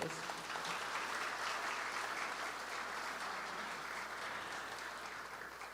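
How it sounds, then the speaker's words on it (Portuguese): Applause from an audience at a live music show, a steady broadband patter of many hands clapping together, moderately distant and fairly quiet, holding evenly for several seconds before easing slightly at the end. "Palmas."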